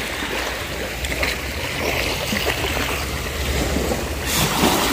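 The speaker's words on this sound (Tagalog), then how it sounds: "bangka na light boat yung iti-testing ngayon mga kabay" A light boat's motor drones steadily beneath the rush and splash of water against the hull during a test drive, a constant close noise throughout.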